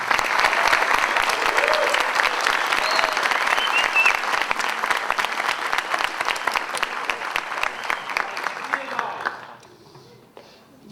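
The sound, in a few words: applause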